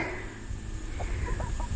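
Backyard hens, including Rhode Island Reds, Barred Rocks, a Black Australorp and a Silver Wyandotte, cluck softly in a few brief notes while pecking at fresh grass, with steady outdoor background noise.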